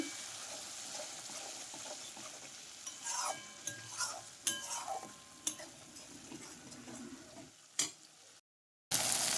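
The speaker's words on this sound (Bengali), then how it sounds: "কষানো হয়ে গেছে দিলাম জল জল দিয়ে আবারও কষিয়ে নিচ্ছি" Chana masala sautéing in a pan after water is added, a soft sizzle under a run of clattering stirs and scrapes of the spoon, close and quiet, ending in a brief cut to silence.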